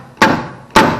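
Two sharp metallic taps about half a second apart, close and loud, as a stud puller is knocked upward to pull dented car body metal back into place.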